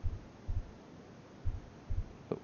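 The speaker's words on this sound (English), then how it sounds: "There's a heartbeat going on." A slow heartbeat in The Sand Man video game, low paired thumps repeating about once a second over a quiet ambient hum, with a brief faint sound at the end.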